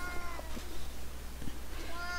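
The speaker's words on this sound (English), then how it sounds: "my cat is sitting here talking to me" A pet cat named Misty meows softly indoors, a few brief, faint calls over steady low background hum, with the owner talking nearby.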